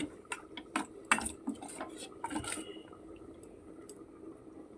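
Fish pieces are squished and mixed with cornflour by hand in a bowl, giving soft, irregular sticky taps and clicks, fairly faint and close, with no talking.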